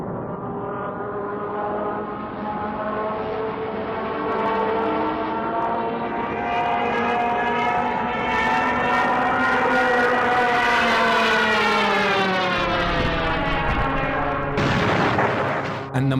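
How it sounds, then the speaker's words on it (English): A Junkers Ju-87 Stuka dive bomber's wartime siren wails loudly and steadily, its rising, multi-toned scream swelling over about sixteen seconds, then cutting into a sharp burst at the end. "the sound made by the Junkers Ju-87, otherwise known as the Stuka bomber"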